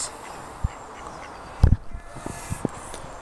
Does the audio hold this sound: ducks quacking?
yes